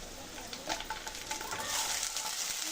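Ginger garlic paste and salt fry with browned onions in a pan, a loud continuous sizzle broken by scraping stirs, close and without talk.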